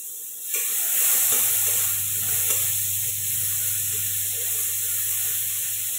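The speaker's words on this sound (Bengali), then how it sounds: "আলুগুলো ফ্রাই করা হোক" Potatoes fry in a pan with a little salt, starting with a sudden burst of sizzling hiss that then settles into a steady, close crackle with a low hum underneath, and no voices.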